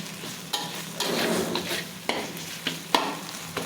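Tomato frying in a brass pan while being stirred, a close sizzle broken by several sharp scrapes and knocks of the spatula against the metal.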